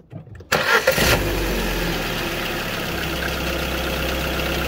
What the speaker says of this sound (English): Okay, we're going to start her up here now.